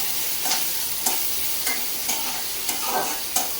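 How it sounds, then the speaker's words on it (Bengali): Fish cooking with pointed gourd in a pan, a steady sizzle broken by regular scraping strokes of a spatula about every half second, close and alone. "এখন এই মাছটাকে আমি এই পটল দিয়ে রান্না করবো, একটু ঝোল ঝোল।"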